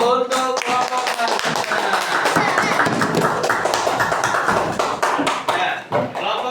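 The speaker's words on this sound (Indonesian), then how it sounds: "Kasih tepuk semangat dulu untuk kelompok 6." A class of pupils does a 'tepuk semangat' cheer, clapping loudly and together in a quick rhythmic pattern of sharp claps and pauses. Voices call out along with the claps.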